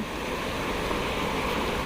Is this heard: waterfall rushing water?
yes